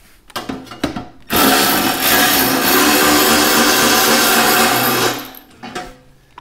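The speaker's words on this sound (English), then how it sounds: "And then I like to remove this bolt" A power tool, likely an impact wrench, removes a bolt on a Honda S2000 engine during valve clearance work, with a loud continuous whir lasting about four seconds after a few metallic clicks.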